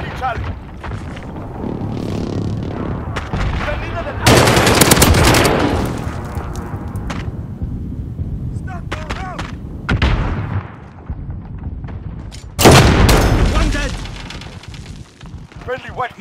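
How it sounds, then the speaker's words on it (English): Precision airstrike explosions in the Call of Duty Ground War video game boom heavily in three separate blasts spread across the span, amid ongoing gunfire, rumble and game voice chatter. "Friendly precision airstrike"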